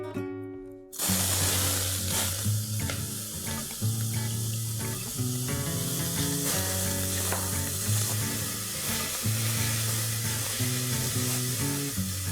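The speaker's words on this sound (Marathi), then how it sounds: "तेल चांगलं तापलं की आपण 2 कांदे बारीक चिरलेले फोडणीला घालूया" Two finely chopped onions dropped into five tablespoons of hot oil in a pressure cooker give a loud, steady sizzle that starts abruptly after a brief quiet moment. A low, tonal hum runs beneath it throughout.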